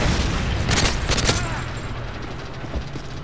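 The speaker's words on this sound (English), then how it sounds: "Friendly Predator missile inbound" A Predator missile strike in the video game Modern Warfare 3 lands as a loud, dense boom with crackling gunfire bursts layered on top, while broadband rumble and rattling debris carry on throughout.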